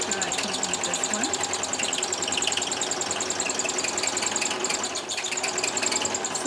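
A sewing machine stitches a pouch with a steady, fast mechanical whir and rattle that runs continuously at moderate loudness, while a person talks over it.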